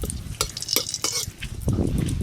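A dried red chili fries in hot oil with a close, crackling sizzle and a few quick clinks of a utensil against the pan over a couple of seconds.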